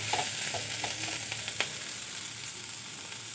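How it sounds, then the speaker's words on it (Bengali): Neem leaves and eggplant fry in a pan with a continuous soft sizzle. Scattered crackles and pops are heard, along with a brief scrape of stirring. "এখন আমি এই নিম পাতা ভাজা নামিয়ে নেব।"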